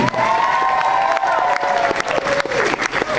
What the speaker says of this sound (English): How about a round of applause for the hot band?